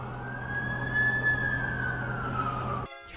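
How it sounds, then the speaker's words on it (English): An ambulance siren in The Amazing Spider-Man 2 video game, a single long wailing tone that slowly rises and falls, fairly close and steady over low traffic rumble, cutting off abruptly near the end. "That's the ambulance I called."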